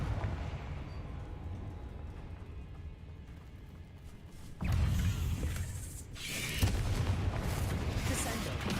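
Confringo explosive spell blasts in the Hogwarts Legacy video game, heavy low booming bursts over a rumbling background, with a louder impact near the middle and another shortly after.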